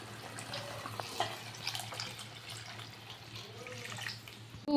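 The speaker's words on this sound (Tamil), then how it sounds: "இப்போ புளிக்கரைசல் சேர்த்துக்கலாம்." Tamarind water pours into a pot of rasam, a faint, soft trickle and splash with a low background hum, close by and continuous for a few seconds.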